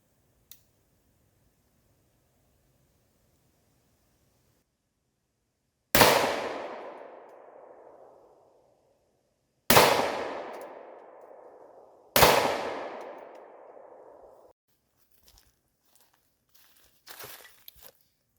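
Three loud pistol shots from a Ruger 5.7 fired at a target outdoors, each a sharp crack with a long decaying echo, spaced a few seconds apart, followed by faint rustling and handling noises.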